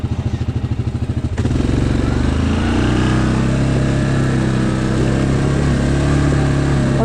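A Yamaha Grizzly 700 SE ATV runs on a rough trail, its engine pulsing at a low idle before throttling up into a loud, steady drone, close by with no talking.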